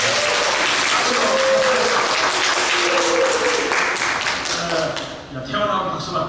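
Loud, full applause from a church congregation during a Sunday service, dense and sustained, then thinning into scattered claps near the end with a voice starting to speak.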